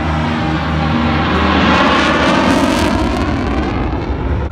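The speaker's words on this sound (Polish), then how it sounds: "Między pirotechniką, pirotechniką na skrzydłach. Samolot." Airshow airplane in Leszno flying with pyrotechnics on its wings, a loud, continuous engine roar that swells and holds close by for several seconds, with a broad rushing hiss over it.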